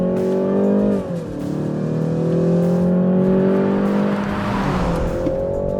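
A BMW 3 Series with a 2-liter turbocharged four-cylinder in sport mode builds revs with a steady, synthetic-sounding drone that shifts pitch briefly and then climbs again, loud and close, with no talking.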